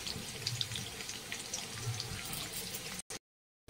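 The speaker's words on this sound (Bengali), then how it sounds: "এবার জলে দেবো, জল দিয়ে দেওয়ার মধ্যে, তাহলে পনিরটা শক্ত হবে না।" Water is poured from a tap into a cooking pan while making a vegetarian paneer curry, giving a steady rushing, splashing flow close by that stops abruptly near the end.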